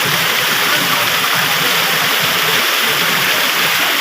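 Water flowing out from a house pours in a loud, continuous rushing gush, dense and unbroken from start to finish, with no voices standing out over it.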